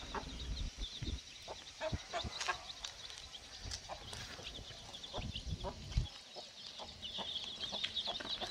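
Long-legged, long-necked multicolored hens kept penned at home cluck repeatedly at close range, with bursts of chicken calls and chirps over background noise and occasional faint human voices.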